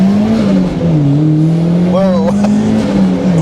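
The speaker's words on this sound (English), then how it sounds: "let's see how it accelerates" A car pulls hard under acceleration on its first drive on a public road, a loud steady engine drone that climbs and holds from the cabin, with a man's brief exclamation partway through.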